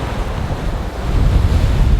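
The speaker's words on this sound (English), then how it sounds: "There's like a weird side wave and a little waves on top of waves." Rough ocean waves and gusting wind buffet a sailboat at sea during a storm, a loud continuous roar of surf and wind noise with no voices.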